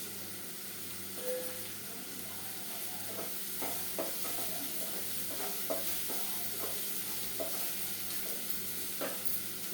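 Onions sauté in a pan with a soft, continuous sizzle. Light clicks and scrapes of stirring recur throughout, fairly faint and with no talking.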